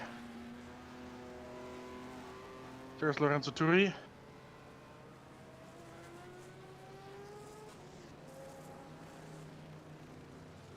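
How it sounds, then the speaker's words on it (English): Low, growling Chevrolet engines of 1971 Can-Am race cars rumble steadily throughout at Road Atlanta and rise in pitch as they rev, with a brief spoken voice cutting in over them. "You can hear that low growl of the Chevy engines."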